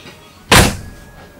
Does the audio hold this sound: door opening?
yes